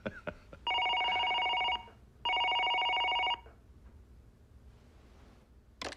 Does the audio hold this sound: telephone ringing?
yes